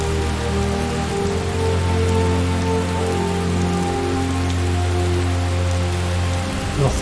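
Rain in the video game Skyrim falls steadily near a Stormcloak camp, a loud, even hiss of drops on surfaces with a constant low hum beneath, no voices.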